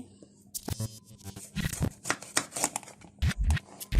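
A knife slices through a medium-large eggplant for beguni, giving a string of close, crisp cuts and scraping thuds against a board at an uneven pace, fairly quiet, with no one talking.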